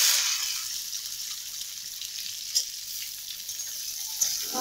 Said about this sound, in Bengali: কাঁঠাল দানাটাকে নেড়ে চেড়ে ভাজা ভাজা করব